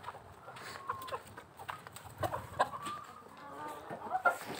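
Chickens cluck softly in a farmyard with geese nearby, scattered short calls rising and falling over a quiet outdoor background.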